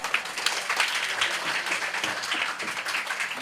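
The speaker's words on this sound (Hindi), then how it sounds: "जोरदार तालियां।" An audience at a girls' cricket tour event in Mandvi gives a steady, moderately faint round of applause, continuous scattered clapping with no voices over it.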